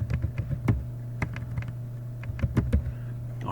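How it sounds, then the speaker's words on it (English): Typing on a computer keyboard while setting up a Java project, a scatter of light clicking keystrokes in short irregular bursts, close but fairly quiet over a steady electrical hum. "I'm going to type in hello world here."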